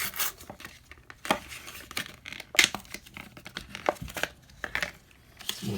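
Plastic blister packaging of a Husky compact folding utility knife is torn open by hand, with several sharp rips and crinkles in irregular bursts, close and moderately loud, no talking.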